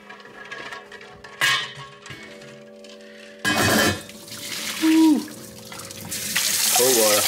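A kitchen tap runs cold water into a sink, a steady splashing stream with intermittent louder bursts and clinks of dishes or pots, while a voice speaks briefly over it.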